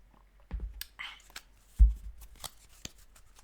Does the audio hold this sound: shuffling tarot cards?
yes